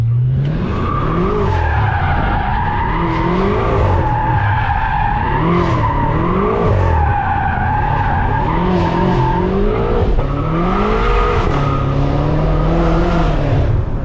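Stage 2 700 hp BMW M5 spinning a donut, its tires squealing and skidding continuously while the engine howls and rises and falls in revs, loud and close throughout.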